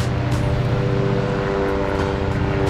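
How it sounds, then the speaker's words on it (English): A constant droning helicopter engine roar with steady tonal hum fills the clip, loud and unbroken as it flies low overhead in Miami. "Look at the helicopter, look. It's lower than us."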